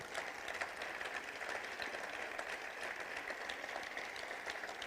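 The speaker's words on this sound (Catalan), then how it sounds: "un gran aplaudiment" A large crowd gives a big round of applause at a central campaign event for the European elections, heard faint and distant as a dense, even wash of clapping.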